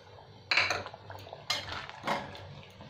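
Shrimp dropped into a simmering pot of potato and pointed gourd curry, a few close clanks and scrapes of a utensil against the pot over a low background.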